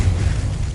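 A Confringo fire spell from Hogwarts Legacy blasts out as a short, heavy low rumble, a brief loud burst of explosive energy with no voices over it.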